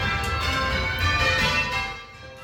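Church tower bells ring in change ringing, overlapping tones sounding in quick succession with a continuous ringing wash that fades slightly at the end.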